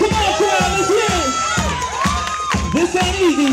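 Loud crowd cheering and shouting at a dance competition prelim, with rhythmic pulsing music beneath and voices whooping close by in bursts across the whole stretch.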